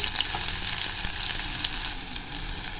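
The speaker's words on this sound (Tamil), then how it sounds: "நல்லா எண்ணெயிலேயே நல்லா வதங்கட்டும்" Onions sauté in oil inside a pressure cooker, a steady, close, bright sizzle with faint crackles running throughout, no voices.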